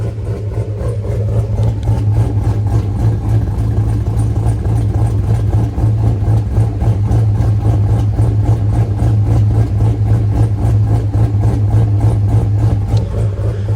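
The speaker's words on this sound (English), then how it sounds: "I'll shut up now and let you guys hear this exhaust note" A loud, lumpy cammed Chevrolet Tahoe exhaust idles steadily, its choppy low rumble loping unevenly throughout with no voices.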